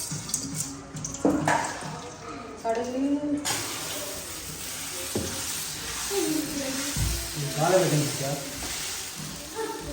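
Dosa batter sizzles on a hot pan at home, a soft continuous hiss running under conversational voices, with some clatter and a brief splash of water partway through.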